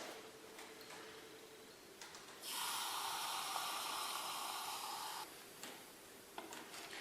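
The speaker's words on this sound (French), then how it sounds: "Je vais maintenant mélanger mes réactifs et on va voir ce qui se passe." Reactants mixed in a chemical reaction set off a steady, bright fizzing hiss that rises suddenly, holds for about three seconds and then stops, with faint ticks and clinks before and after.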